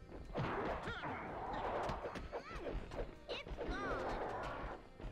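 In the video game Scooby-Doo! First Frights, objects are smashed in a dense run of crashes, thwacks and whooshes. Game music and effects play underneath, and the impacts come one after another with no gap.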